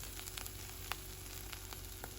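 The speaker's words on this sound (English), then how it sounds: "So our pasty's been cooking for a good 4 to 5 minutes now on low flame." A Greggs vegetable bake pasty frying gently in a pan over a low flame, giving a quiet, steady sizzle with soft scattered crackles and pops, heard alone.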